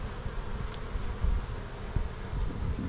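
Honey bees humming around an open hive in West Texas during fall beekeeping work, a low steady drone close to the microphone with a few louder passes and light wind.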